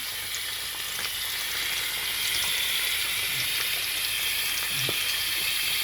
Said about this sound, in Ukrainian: От і так смажиться.